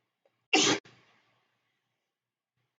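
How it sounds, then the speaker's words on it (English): A single sharp sneeze bursts out in a quiet classroom, loud and close, trailed by a brief faint breath and then silence. "Gonna sneeze."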